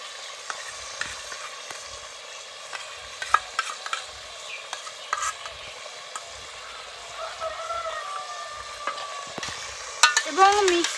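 Chicken cooking in a clay pot being stirred after onion paste goes in, a steady soft sizzle under repeated scraping and stirring strokes, close and moderately loud with no talking.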